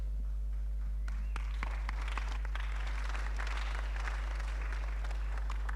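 Scattered hand claps that grow into broad applause from a seminar audience in a hall, with a steady low hum beneath.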